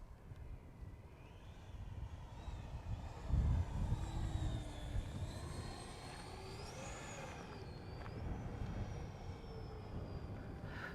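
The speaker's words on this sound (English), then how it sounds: "So this is a very fun plane when it's in the air." An HK Flycat RC plane flies overhead, its electric motor a faint, distant whine that rises and falls in pitch as it passes, over steady background rumble with a brief low thump.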